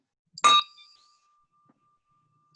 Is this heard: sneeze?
no